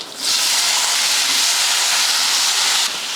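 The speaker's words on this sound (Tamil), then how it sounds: "கூடவே கருவேப்பிலை அடுத்து உருளைக்கிழங்கு போட்டுடலாம்" Sliced potatoes hit hot oil already crackling with mustard seeds, fennel and curry leaves, setting off a loud, steady sizzling hiss that holds for about three seconds and dips slightly at the end.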